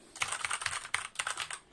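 Rapid, close-up typing on a Gamepower Saber RGB mechanical keyboard with red switches and a metal top plate, a steady run of crisp clacks in uneven bursts with a short pause midway, heard alone.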